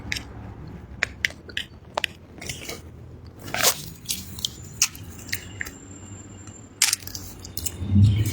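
Close, crunchy chewing with irregular bites and crackles over a quiet room hum, with no talking.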